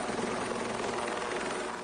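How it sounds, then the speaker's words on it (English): A helicopter's steady, loud rotor and engine roar fills the whole stretch, a continuous broadband whir with no pauses. "She's on this helicopter."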